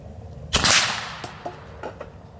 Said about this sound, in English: I'm going to smack some steel at 21 yards away